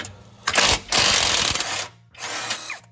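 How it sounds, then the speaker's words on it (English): A breaker bar ratchet worked on an engine mount bolt of a Ford Fiesta ST, giving loud close bursts of rapid clicking in two long runs with a short pause between them, without talk. "this is my breaker ratchet"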